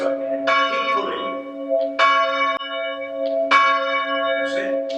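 Church bell at St Thomas of Canterbury, East Clandon, Surrey, swung by a ringer pulling the rope: three loud, ringing strikes roughly 1.5 seconds apart, each leaving a long sustained hum that overlaps the next.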